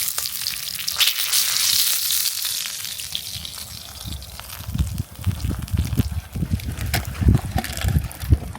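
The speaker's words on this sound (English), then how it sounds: "We toasted the buns directly on the cooktop while the burgers finished cooking" Burgers sizzle on a camping cooktop outdoors while buns toast beside them, giving a continuous frying hiss with soft scraping and clattering taps toward the end.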